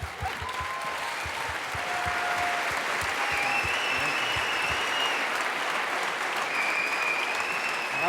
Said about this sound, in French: On peut applaudir Diane, s'il vous plaît